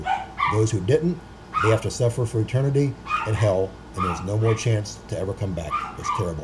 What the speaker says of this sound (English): I'm sorry for the dogs barking again